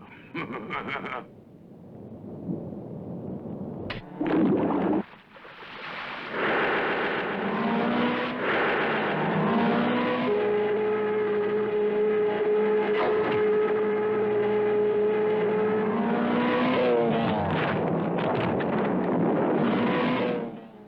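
The Mach 5 race car in a Speed Racer cartoon drives with a loud, sustained engine whine that swells and holds steadily for many seconds, after a few sharp cartoon effects.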